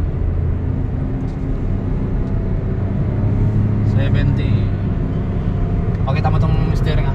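A car cruises on a highway during a brake test, a continuous loud road and engine rumble from inside the cabin, with brief talk heard twice over it.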